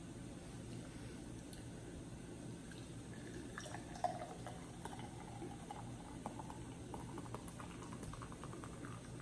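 Bed of Nails brown ale poured from a freshly opened bottle into a glass, giving a steady, close foamy gurgle and fizz with faint drips and clinks throughout, no voices.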